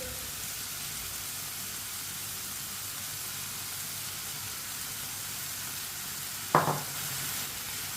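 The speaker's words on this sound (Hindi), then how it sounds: "अच्छी तरह मिक्स करके 2 मिनट के लिए पका लेंगे चम्मच चलाते हुए" Soaked masoor dal lentils cooking in a pan, a steady soft sizzle running throughout, with one sharp scrape or clink of the stirring spoon near the end; no talking.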